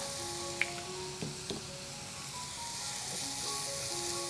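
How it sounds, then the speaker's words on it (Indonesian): Chopped mushrooms sautéing in margarine in a hot pan give a steady, quiet sizzle, with a few soft clicks and scrapes of stirring throughout. "Ini tumis-tumis sampai dia agak layu"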